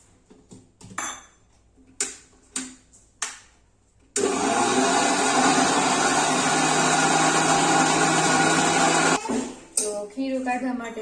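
A few sharp knocks and clinks precede a mixer grinder whirring loudly and steadily for about five seconds as it grinds dosa batter, then it cuts off and talking resumes.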